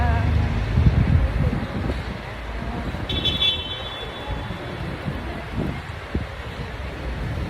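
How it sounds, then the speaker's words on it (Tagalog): Wind gusting outdoors around Araneta Center, a rough low rumble of buffeting against the microphone with faint traffic and a brief horn-like tone in the background, no clear talk. "mahangin din."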